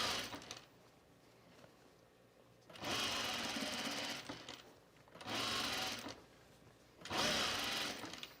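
A sewing machine runs the final seams of a shirt in three separate bursts of steady, close motor whirring, each lasting a second or two, with short quiet pauses between stitching runs.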